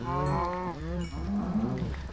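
Cows in the video game Minecraft let out several loud, drawn-out moos in quick succession while being slaughtered, close and clear, with no talking over them.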